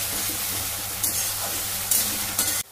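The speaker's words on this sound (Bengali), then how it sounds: "দিয়ে একটু লাল লাল করে ভাজা করে নেব।" Onion paste fries in a pan for a Bengali katla fish curry, giving a loud, close, steady sizzle broken by a few brief stirring scrapes. The sound cuts off abruptly at the end, and no one speaks.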